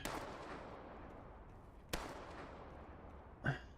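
Sniper fire in Into the Radius 2, a rifle cracking from a church: three sharp reports with long rolling echoes, fairly distant and moderate in loudness, spread across a few quiet seconds.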